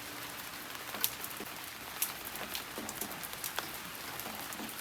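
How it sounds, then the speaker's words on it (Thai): Rain falls steadily in a rural Thai village, a soft even patter of drops on surfaces with a few sharper drips standing out, moderately quiet and continuous with no talking. "ฝนตกอยู่นะเจ้า"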